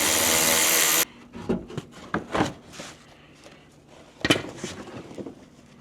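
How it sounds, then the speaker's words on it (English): A power driver with a T15 Torx bit whirs briefly while removing a wheel well liner on a Chevy Colorado, a short loud spin that stops abruptly, followed by scattered clicks and plastic clatter. "taking out the wheel well liner with a T15 Torx bit"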